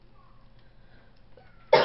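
A single cough from a person with seasonal allergies and post-nasal drainage, one short loud burst near the end after a quiet stretch.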